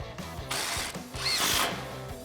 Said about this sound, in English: tighten that up with a 12mm socket